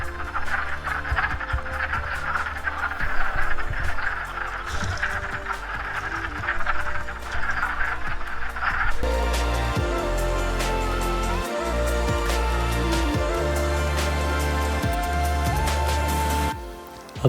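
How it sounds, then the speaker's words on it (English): A dense chorus of spring frogs calls along a woodland trail, a continuous trilling, croaking wall of sound at moderate distance with no voices, growing fuller and steadier partway through. "These frogs are a great reminder that spring is right around the corner."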